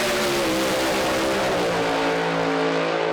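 A Camaro pro mod drag car at Santa Pod Raceway roars loudly through a 2019 championship run, its engine a sustained, close, harmonic-rich howl that holds steady for the whole stretch.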